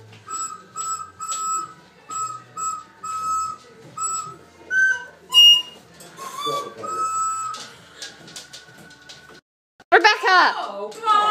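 A whistle is blown repeatedly in short and longer blasts with steady pitch during festive Christmas games at home, fairly close, followed by people calling out and talking.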